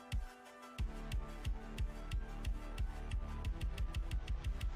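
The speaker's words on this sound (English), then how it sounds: "Look at me sanding this. I hold the sponge and I go back and forth." A sanding sponge rubs back and forth over a plastic gaming mouse shell in quick, steady strokes, a close, dry rasping rhythm that speeds up slightly as it goes.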